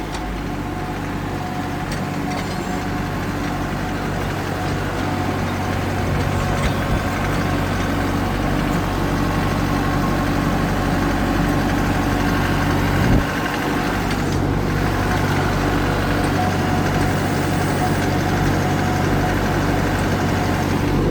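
A tractor idling nearby, a loud, constant diesel rumble that holds steady for the whole stretch with only a slight bump partway through and no talking.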